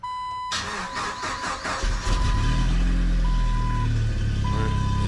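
A 1997 Jeep Wrangler TJ cranks with a short whir, then catches and settles into a loud, steady idle, while an intermittent high warning chime beeps over the running engine.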